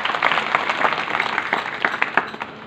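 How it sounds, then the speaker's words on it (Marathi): A kirtan audience bursts into loud, sustained applause, a dense patter of many hands clapping at close range. The claps swell unevenly and fade slightly toward the end, with no speech over them. "जरा एकदा जोरदार टाळ्या वाजवा"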